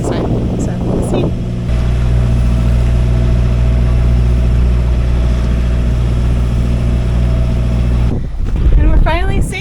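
Sailboat engine under way on a coastal passage, running as a loud, steady low drone close by, with talking before it starts and after it cuts out near the end.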